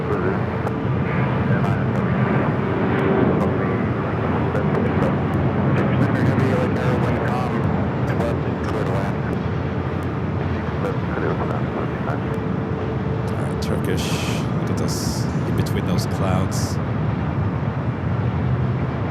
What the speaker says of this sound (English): the Tiana Bayou special livery taking off 7 left